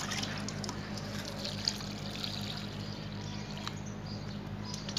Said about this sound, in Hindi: बिल्कुल इसको भर दे गमले को पानी से, सरसों खल्ली के पानी से